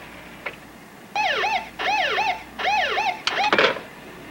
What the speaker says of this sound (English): Cars coming, moving fast. Red lights and sirens.